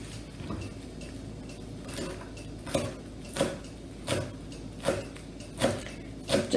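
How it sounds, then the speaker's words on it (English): A kitchen knife chops fresh cilantro on a cutting board for a rice and bean bowl, a series of about eight evenly spaced, fairly loud chops over a low background hum, with no talking. "Just also chopping the cilantro up a little bit."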